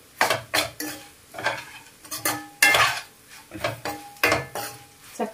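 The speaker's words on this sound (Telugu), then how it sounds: "చక్కగా కలిపేసేసుకొని ఒక 2 నిమిషాలు మగ్గనిద్దామండి" A spatula scrapes and knocks against a pan as coconut and bitter gourd fry are stirred, about a dozen rhythmic strokes with clinks, close and alone.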